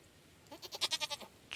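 A goat in Stardew Valley gives a single wavering bleat, a quick series of about six pulsing wobbles that rise and fade, clear and fairly near over quiet game ambience.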